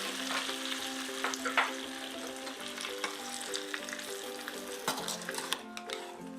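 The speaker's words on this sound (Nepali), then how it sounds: "र म यसरी तातेको तेललाई चाहिँ अब आलुमा झान्दैछु।" Hot oil with turmeric poured over potatoes for Nepali potato achar crackles in a bright, busy sizzle with stirring clinks, heard under soft background music.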